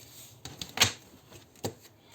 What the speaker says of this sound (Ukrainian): Так, збираю карти.